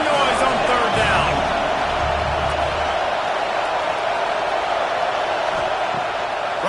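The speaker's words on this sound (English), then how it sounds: "This dog crowd is off the leash, and they are coming after them, bringing noise on third down." A stadium crowd at a Vanderbilt vs Georgia college football game roars on third down, a broad sustained wall of noise that stays loud and steady throughout, with a commentator's voice faintly mixed in.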